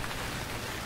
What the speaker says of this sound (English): Man, the rain is so loud.